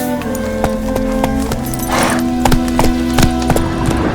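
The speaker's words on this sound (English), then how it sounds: "Roach, my friends, is the name of the horse in all of the Witcher series that Geralt rides." Horse hooves clip-clop steadily in The Witcher 3 video game, an even trotting rhythm of crisp hoof strikes over a droning in-game music and ambience bed.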